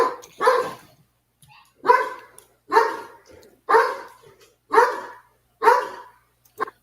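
A dog barks in short, evenly spaced bursts, about seven loud close barks with brief pauses between them and no talking over them.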